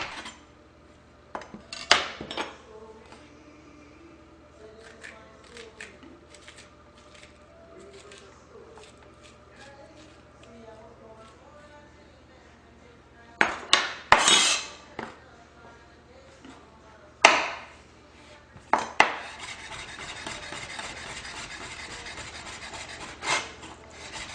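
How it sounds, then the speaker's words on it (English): A kitchen knife cutting up yellow squash on a wooden board, with scattered close chops and rasping slices that come in bursts and grow busier toward the end, amid quiet pauses. "So let's start cutting up the yellow squash."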